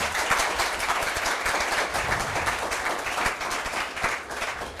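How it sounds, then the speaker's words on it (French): Audience applause for both teams at a school quiz match, a fairly even patter of many hands clapping, moderately loud and sustained throughout. "nous applaudissons tous les deux équipes chaleureusement"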